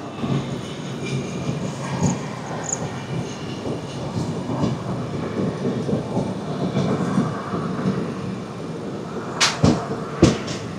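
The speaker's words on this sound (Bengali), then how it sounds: "এই যে এটা হচ্ছে অকাল তখ্ত এক্সপ্রেস।" At night, the Akal Takht Express rolls past at close range with a continuous rumbling clatter of wheels and carriages. Sharper knocks and clanks rise near the end.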